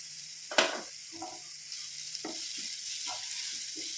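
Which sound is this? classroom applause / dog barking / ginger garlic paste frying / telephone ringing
ginger garlic paste frying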